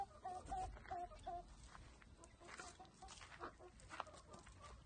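Free-range Rhode Island Red and native chickens cluck and squawk in a farm pen, a steady busy chorus of overlapping calls, fairly close, with no talking over it.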